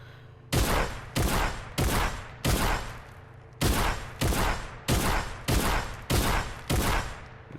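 Shotgun blasts fired at orbs on a Fortnite aim training map, eleven loud close shots in quick bursts with a brief pause midway, each a sharp crack with a short ringing tail, no talking.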